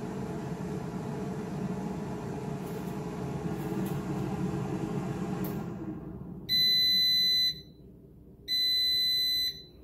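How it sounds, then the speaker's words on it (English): Two loud electronic beep tones from a Cosori air fryer signal it is preheated, sounding alone after its steady fan-like whir fades, each beep lasting about a second with a short gap between. "there's the beeping sound. That means the Cosori air fryer is preheated."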